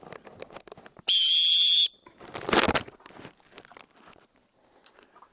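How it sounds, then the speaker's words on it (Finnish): A whistle gives a paddling signal on a kayak outing: one piercing, steady blast lasting under a second, loud and close, with crinkling and rustling sounds before and after. "Noin sekunnin puhallus pillillä."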